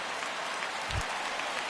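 Rain falls over a baseball stadium in a video game, a steady broad hiss throughout with a brief low thump midway, no talking over it.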